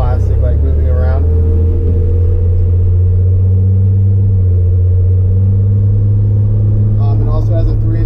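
Loud cabin drone inside a 1987 Chevrolet S10 pickup with a 2.8L engine and 3-inch exhaust, a steady low engine rumble while driving, with brief voice sounds near the start and end.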